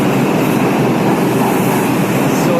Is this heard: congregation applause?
no